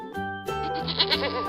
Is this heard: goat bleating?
yes